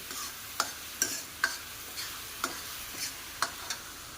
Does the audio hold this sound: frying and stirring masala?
yes